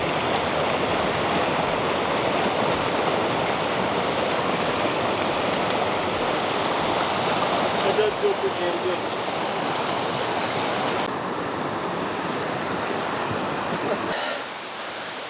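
Constant roar of rushing water from Ribbon Falls in the Grand Canyon, broad and steady, fading slightly near the end; no clear speech.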